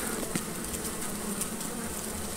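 A dense, steady buzzing of many bees during a hive removal at a mobile home fills the air, close and constant, with faint clicks scattered through it.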